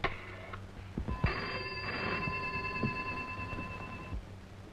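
Telephone ringing close and loud: a bright electronic ringtone with sustained tones repeating for several seconds, alone with no voices.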